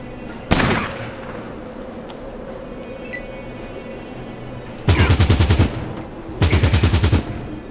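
Automatic gunfire in the video game Fallout Tactics, Kansas City mission: a single loud shot, then two dense rapid bursts of machine-gun fire close together near the end, over a low background hum.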